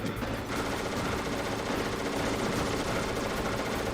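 Gunfire in the video game Metal Gear Solid rattles as a dense, continuous barrage of automatic shots, loud and steady from start to finish.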